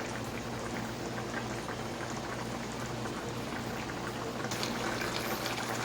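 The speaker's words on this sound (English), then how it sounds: "So another 5 minutes to simmer" Bicol Express sauce simmers steadily in a pot, a dense, continuous bubbling hiss that stays even and close throughout with no voices.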